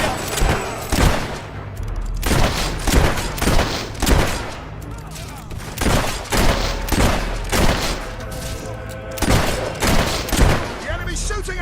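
Gunfire in the video game Fable 3, a battle scene with repeated loud shots and volleys in steady succession, voices shouting faintly among the blasts.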